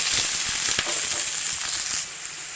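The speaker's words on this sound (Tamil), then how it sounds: "ரெண்டு டேபிள் ஸ்பூன் ஆயில் கால் டீஸ்பூன் கடுகு கால் டீஸ்பூன் சீரகம் பொறிஞ்சு வரட்டும்" Steady, crackling sizzle of mustard and cumin seeds frying in hot oil, with sharp little pops scattered throughout, close and fairly loud.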